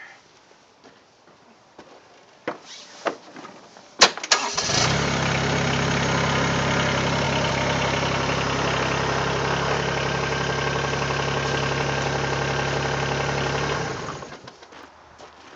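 After a few clunks, a Mahindra eMax20s HST compact tractor engine starts and settles into a loud, steady diesel idle for about ten seconds before cutting off.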